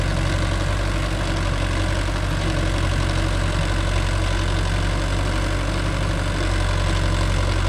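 A Mahindra Yuvo Tech Plus 585 DI 4WD tractor engine runs steadily at a constant idle-like drone, loud and close, with no breaks and no talking.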